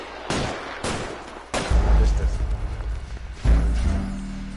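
Gunfire in the detective video game L.A. Noire: a few sharp, loud shots cracking out one after another, followed by heavy booming rumble and low in-game noise.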